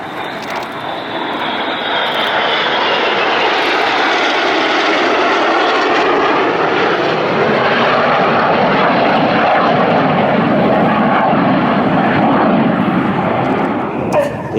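Red Arrows jets flying in tight formation at the Farnborough Air Show, a loud, sustained engine roar that swells and shifts in pitch as they pass, with a commentator talking over it.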